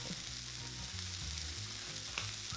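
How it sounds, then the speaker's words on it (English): Seasoned meat patties sizzle steadily in a hot pan for burgers, a continuous close frying hiss with faint low music-like tones underneath and no talking. "We're gonna season with salt and black pepper. And cook until brown for about 1 minute."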